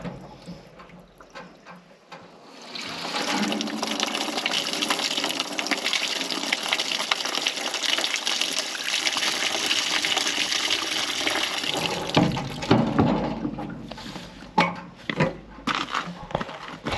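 Liquid poured out of a removed part from a Hitachi EX120-2 excavator, a steady close gushing splash lasting about ten seconds before trickling off into a few drips and handling noises.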